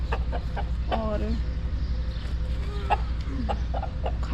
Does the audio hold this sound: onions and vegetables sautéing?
no